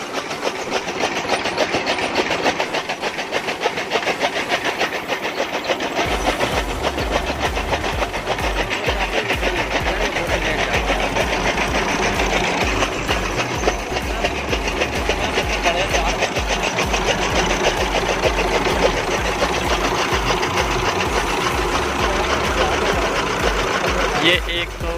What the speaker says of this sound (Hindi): ये जी टोका मशीन है जो भैंसों का चारा काटने के लिए वो चला रखी है ट्रैक्टर पर।